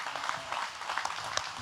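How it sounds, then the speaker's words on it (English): Faint, distant applause from a conference audience for a speaker at a beef industry event, a thin, even patter of clapping with a few sharper claps near the end. "let's give John Stika a big round of applause"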